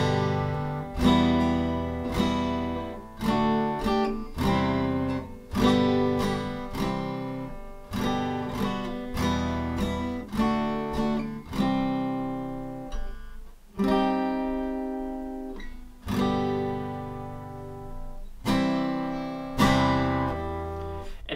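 Acoustic guitar strumming the chorus chords of a song from Mulan, steady rhythmic strums with held chords ringing out, played alone without talk.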